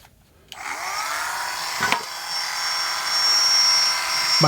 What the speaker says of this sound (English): Make sure you drill the right holes out.